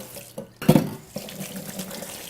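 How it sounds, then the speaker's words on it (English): Water from a kitchen tap runs over hands being rinsed, a short burst of splashing near the sink that settles into a steady running stream. "Wash my hands."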